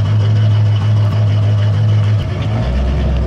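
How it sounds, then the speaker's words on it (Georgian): A faulty Mercedes AMG engine idles with a heavy, steady low rumble, then the pitch shifts and drops toward the end. It sounds close and loud, with no talking. "გარეთ ისვრის რა, ანუ წვის კამერის გარეთ აფეთქებს"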